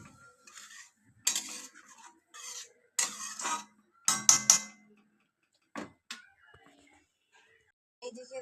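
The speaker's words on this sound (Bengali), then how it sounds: "একটু আঁচটা বাড়িয়ে দিয়ে এবার মশলাটাকে আমি কষিয়ে নেব।" Spoon scraping and stirring masala in a pan over raised heat while making chana dal with coconut, a few brief scratchy clinks and sizzling bursts separated by quiet gaps.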